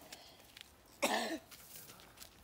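Outdoors on a forest walk, a child lets out one brief, rough cough, close and fairly clear against faint background rustle.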